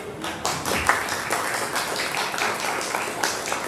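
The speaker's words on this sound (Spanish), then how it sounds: "le demos un excelente aplauso" Applause from the audience at the opening of a history congress in San Germán, Puerto Rico, a steady wash of many hands clapping at moderate level without pause.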